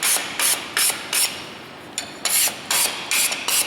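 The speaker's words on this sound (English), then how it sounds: "I'm using a mill bastard file." Mill bastard file on a soft bolt, with about nine short rasping strokes in a steady rhythm and a brief pause partway through, heard loud and close.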